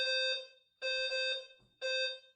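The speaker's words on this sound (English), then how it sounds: "I think like the fire alarm or something just went off." A fire alarm sounds indoors in three loud, shrill electronic bursts, each with a sharp harmonic tone and brief gaps between them, with no one talking.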